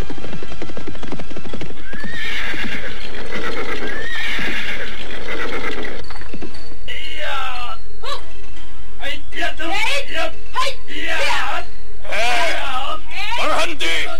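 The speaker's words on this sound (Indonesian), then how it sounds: "serombongan pasukan berkuda datang ke tempat mereka" Horses of a troop of mounted riders neigh and whinny repeatedly while their hooves clip-clop, set under a narrator's voice with dramatic background music.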